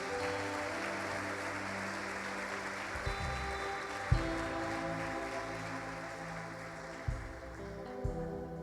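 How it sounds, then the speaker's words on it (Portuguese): Church congregation clapping during a Portuguese-language sermon, a steady soft wash of applause over low sustained organ or keyboard tones, with a few sharper thumps scattered through. "você pode dar uma salva de palmas para me ajudar a terminar."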